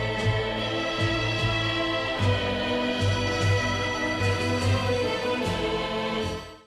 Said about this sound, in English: We've heard harmonica's theme now. It sounds like this.